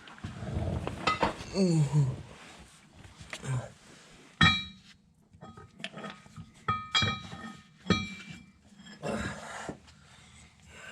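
Several sharp metallic clangs ring out at intervals as a hammer strikes a brass punch during manual transmission work on a Cummins 5.9, with a voice talking in between the hits.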